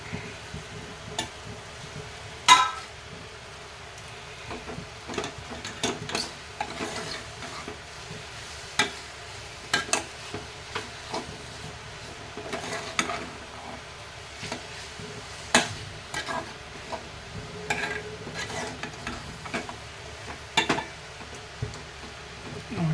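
Beetroot palya with dry grated coconut being stirred in a pan: a soft sizzle runs under scattered scraping and tapping of a spoon against the pan, close and fairly quiet, with no talking.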